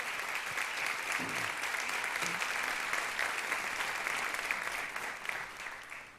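A church congregation applauds during a celebration service, a dense, sustained wash of clapping from many hands that fades slightly at the end.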